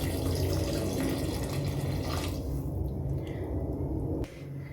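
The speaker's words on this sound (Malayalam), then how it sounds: "ചൂടുവെള്ളം ഒഴിച്ച് കൊടുക്കാം" Hot water poured into a pot of chicken curry: a dense, close rushing pour that thins out partway through, leaving softer bubbling and trickling and a faint knock near the end.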